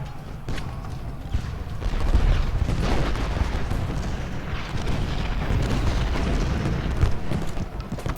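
Cannon fire in the Civil War strategy game Ultimate General Gettysburg, a dense rumbling battle din of booming artillery with occasional sharper blasts, steady and loud throughout.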